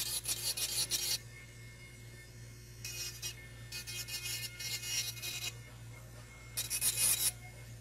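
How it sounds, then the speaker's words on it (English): Acrylic nails being filed with a 240 grit file, three bursts of quick, close rasping strokes separated by quieter gaps, with a faint steady hum underneath. "I'm going to use a 240 grit file."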